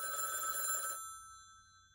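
A telephone bell rings in a Hindi television advertisement for Ambuja rooftop rainwater harvesting systems, a bright, steady electronic ring lasting about a second before cutting off, loud and alone.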